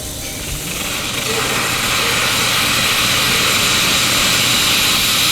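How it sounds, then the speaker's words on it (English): Pressurized steam vents from beer brewing equipment at a brewery, a loud, broad hiss that swells in the first second or two and then holds as a steady, close rush. "I'm going to release the steam"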